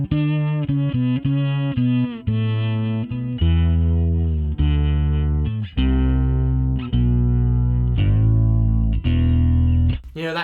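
An Alembic 8-string fretless Series II bass plays a series of sustained, gliding long notes with a smooth, processed tone, each held before sliding into the next.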